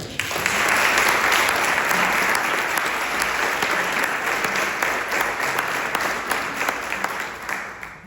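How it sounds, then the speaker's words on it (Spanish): An audience at a tribute event for Miguel Núñez Pedregosa in Torre Romeu, Sabadell, breaks into sustained applause, a dense wash of clapping that holds steady for several seconds before easing slightly toward the end. "Un aplauso para él"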